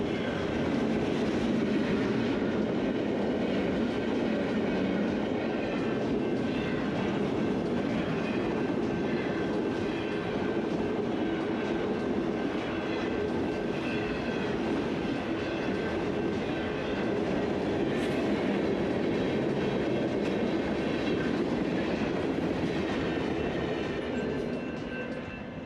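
A freight train rolls past in Modoc County with a continuous heavy rumble and a faint steady wheel whine, loud and unbroken throughout.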